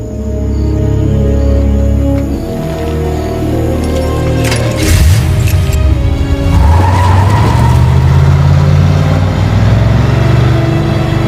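A car tears away in a loud skid, tires squealing as the engine revs, the screech building midway and running on close and sustained with roaring motor noise.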